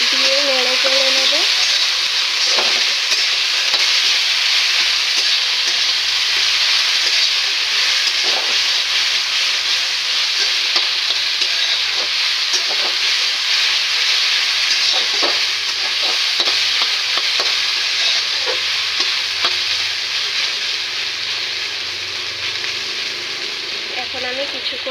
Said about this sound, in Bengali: আমি ভালো মতো লবণ হলুদ দিয়ে নেড়ে চেড়ে নেব।